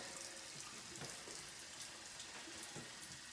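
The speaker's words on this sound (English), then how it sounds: "I'm gonna turn the water off" A bathroom tap runs into a sink while hands are rinsed after washing with soap, a faint, steady stream with small splashes and no talking.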